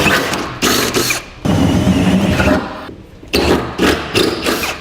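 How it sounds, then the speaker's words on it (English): Loud grinding drill bursts biting into metal, drilling 17/32-inch holes for a fifth wheel hitch installation kit, starting and stopping several times with short pauses between runs. "We can go ahead and drill out our holes."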